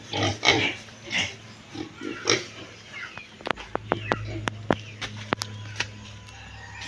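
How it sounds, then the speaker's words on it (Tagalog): A farm pig grunts and oinks in a series of short, close bursts, followed by sharp clicking knocks as the animal moves about its pen. "Ayan po, Ma'am Dani, ang inyo pong baboy."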